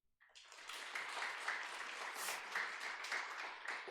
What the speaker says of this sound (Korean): 우리 모두에게 박수.